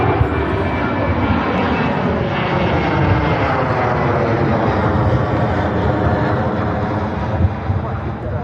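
An Airbus A380 airliner at Manchester Airport gives a loud, steady jet roar with a broad rumbling drone that fills the whole stretch, heard fairly close and with no break.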